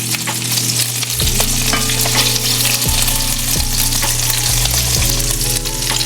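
Meatballs from a cast iron skillet drop into marinara sauce in a pan, setting off loud, steady frying and sizzling with a few stirring knocks and scrapes close by. No one speaks.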